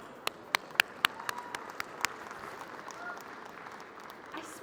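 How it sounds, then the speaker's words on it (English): A handful of sharp, separate hand claps ring out at a disability expo in 2024, a short burst of about eight claps that trails off into quiet room noise. "So give him a clap."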